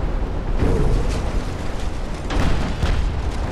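Torpedoes striking a heavy cruiser in the naval game Ultimate Admiral: Dreadnoughts, two heavy booming explosions with rumbling bursts, the second following about two seconds after the first, loud and close with no speech.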